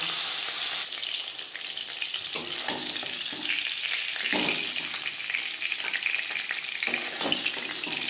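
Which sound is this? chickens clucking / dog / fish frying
fish frying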